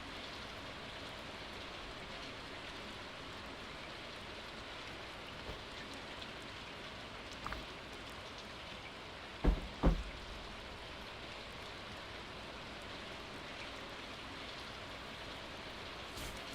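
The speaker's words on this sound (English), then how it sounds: "can you hear the sound of the rain falling on the roof of our farmhouse?" Steady rain falls on the farmhouse roof in the Stardew Valley video game, a soft, even patter that holds throughout, with a couple of faint knocks near the middle.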